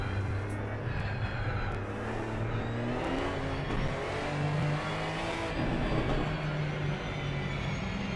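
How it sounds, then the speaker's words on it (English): A Porsche race car engine in the sim racing game Assetto Corsa Competizione drones steadily and loudly, rising and falling through revs and gear changes, with no talking. "Car sound is okay"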